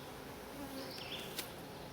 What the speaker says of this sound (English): We've got plenty of bees.